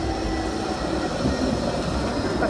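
A Blackpool tram rolls past on a rainy day with a steady, rumbling roar of wheels on rails and a faint metallic squeal, heard close and without talk.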